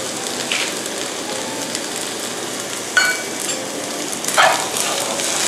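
Crab fried rice being stir-fried in a pan with fish sauce and sugar, a steady hiss of sizzling with a few sharper scraping clatters from the utensil against the pan.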